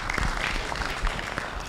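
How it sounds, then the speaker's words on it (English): Steady audience clapping fills a conference hall at an annual meeting of African parliamentary budget offices, a dense patter of many hands at moderate level with no speech over it. "Let's clap for her."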